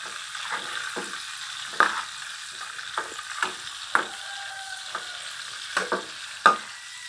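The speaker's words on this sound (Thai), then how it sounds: "ทำอาหารเช้าให้ลูกหมูทอดชีส" Pork with cheese frying in a pan for breakfast, a steady close sizzle broken by repeated sharp stirring scrapes and clicks from a utensil against the pan.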